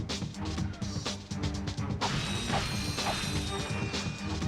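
Wooden crates smashing in the Ratchet & Clank video game on Veldin, a run of sharp cracks and crunches with mechanical clatter over a steady loud game music bed, no talking.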